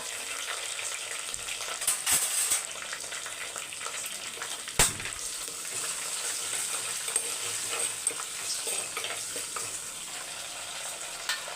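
Curry leaves, crushed garlic and slit green chillies fry in hot oil in a home kitchen, giving a continuous close sizzle broken by a few sharp stirring clatters, with no talk.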